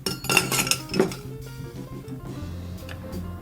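A few bright clinks of ice against glass, then a steady soft splashing hiss as a Negroni is poured over ice, close up with music faintly behind.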